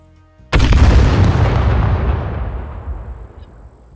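A single loud gunshot in the survival game Scum cracks sharply after a quiet moment, then booms and rolls off in a long fading echo.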